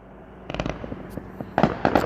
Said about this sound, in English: There are those fireworks, which I stepped out of the way, which I can barely even see